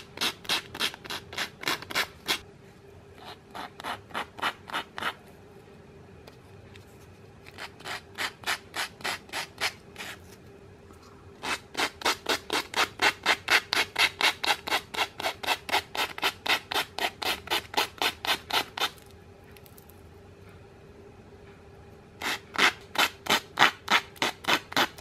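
Jacaranda wood earrings and necklace rubbed with a paper napkin, steady top-to-bottom strokes in a quick rhythmic series of soft brushing swipes, grouped in bursts separated by short pauses, close and fairly quiet.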